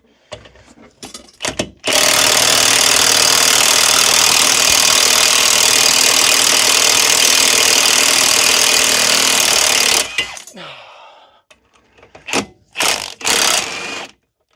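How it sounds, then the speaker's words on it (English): A big pneumatic impact wrench working on a Mini Cooper S Cabrio rear subframe: a few short bursts, then a loud continuous hammering rattle for about eight seconds, followed by more brief trigger pulls after a pause. "So we try here as well with the big turbo wrench"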